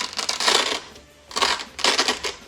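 Blitzway Astro Boy figure box lid drawn open: two bursts of dry, airy papery friction separated by a brief quiet pause, close and fairly loud, with no talking.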